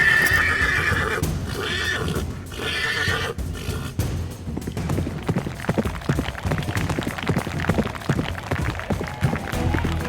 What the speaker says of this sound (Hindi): देखो तो, श्यामदा के इशारे पर घोड़ा कैसा दौड़ा जा रहा है